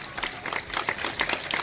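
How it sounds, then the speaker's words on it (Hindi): An audience at a gathering claps to welcome a guest, producing a short burst of dense, brisk applause with many overlapping hand claps. "मैं इनके लिए जोरदार तालियों से स्वागत करना चाहूंगा"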